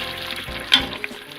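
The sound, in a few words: mutton frying in ghee and oil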